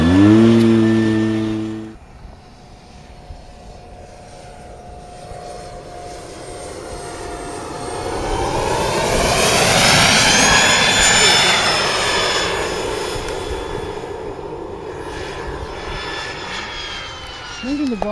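A Balsa USA Enforcer RC model jet powered by a turbine engine makes a pass: a loud whine swells to a roaring peak as it flies close, then fades away, with a brief burst of talk at the start.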